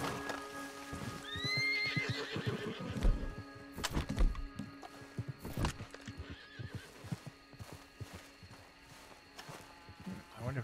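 A horse whinnies loudly in Red Dead Online, followed by steady clip-clop of hooves and a few thumps, with a low hum underneath.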